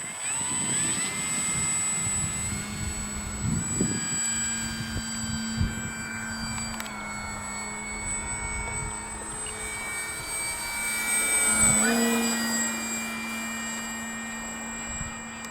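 A radio-controlled model airplane drones steadily at a distance for the whole stretch, its engine tone shifting and swelling around the midpoint as it wanders erratically through the sky, with no voices.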